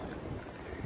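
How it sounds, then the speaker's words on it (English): Strong wind in a cold blizzard roaring across the microphone as a dense, steady rush of noise, close and unbroken for a brief moment with no voices. "And there is a lot of wind,"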